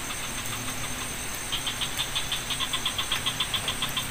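A distant motorcycle engine hums steadily from a nearby village, heard from a campsite, with a faint rhythmic putter emerging in the second half, all under a constant background noise.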